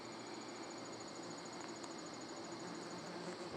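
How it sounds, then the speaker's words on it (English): A massive swarm of bees buzzing outdoors on a summer night during sky observation, heard as a steady, even drone with a faint thin whine running through it and no pauses. "We have a massive amount of greedy bees."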